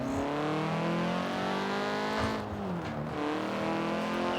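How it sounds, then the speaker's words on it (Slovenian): A car engine in a racing video game drones loud and steady with a rumbling exhaust, pitch dipping and rising briefly as it shifts, no voices over it. "Ko zadaj se dober auspuh sliši."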